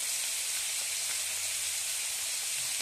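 Food fries slowly on low heat in a covered pan with a little turmeric, producing a soft, even hiss that holds steady with no breaks.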